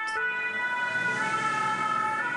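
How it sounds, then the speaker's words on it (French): A French ambulance siren wails continuously and loudly close by, with a steady warbling two-tone, as emergency vehicles arrive at a simulated road accident scene; no talking. "Une ambulance et le véhicule de secours routier."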